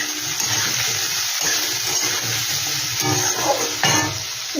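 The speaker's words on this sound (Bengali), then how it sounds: "এটাকে একটু ভালো করে আমি ভেজে নেব।" Cumin seeds and spices frying in a pan for a homestyle soybean curry, a loud close sizzle with stirring scrapes, steady throughout with a couple of sharper spatula knocks.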